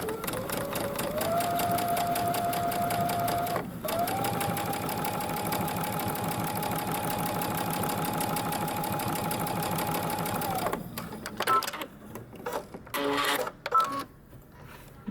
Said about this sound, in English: And now I'm going to fold over and stitch.